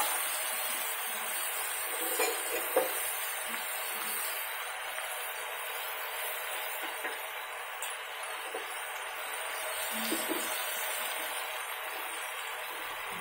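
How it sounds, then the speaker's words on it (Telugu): Ridge gourd pieces fry in a pan for a gourd and groundnut curry, giving a steady, fairly quiet broadband sizzle with a few soft scrapes and clicks of stirring and no talk. "బీరకాయ ముక్కలు వేసి వేయించి బాగా కలపాలి, వేగుతూ ఉంటాయి."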